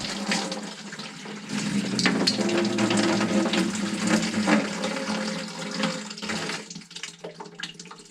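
Water gushes from a freshly cut household water pipe into a bucket while a whole-house iSpring filter is being installed: a loud, splashing rush that builds, holds for several seconds, then tapers into drips and trickles.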